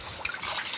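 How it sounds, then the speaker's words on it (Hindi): Rainwater trickling and splashing as it overflows into a flooded house, a steady close watery wash with small splashes throughout, no voices. "अभी हल्का पानी आ रहा है"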